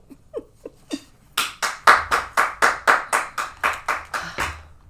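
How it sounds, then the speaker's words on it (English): Clapping from a single person or a small group: a few soft, separate claps, then a steady run of about a dozen louder, evenly spaced claps close by. "I think I need a round of applause."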